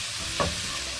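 Ginger and garlic hit hot oil in a pan, with a soft continuous sizzle and one brief stir or drop partway through, close and moderate in level.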